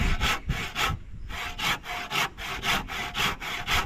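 A hand saw cuts wood for building a bahay kubo, a traditional Filipino nipa hut, with rhythmic back-and-forth rasping strokes, close and loud, about ten strokes after a brief pause.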